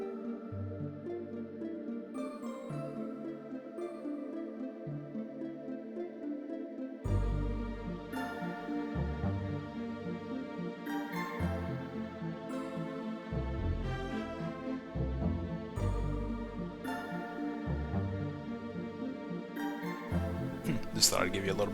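Ending credits music from the video game Legend of Legaia: a melodic piece with sustained tones and a bass line that enters partway through and builds, playing steadily with no talking.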